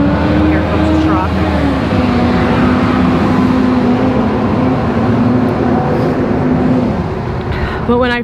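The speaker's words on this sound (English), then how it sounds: "here comes the truck" A truck rumbles past on a road close by, a loud steady engine roar that holds for several seconds before easing off, with a voice talking over it.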